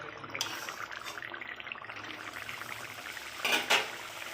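Cooked halua fish curry is poured out of a pan: faint scraping and clinking of metal utensil against the pan over a soft wet sizzle, with a couple of sharper scrapes near the end.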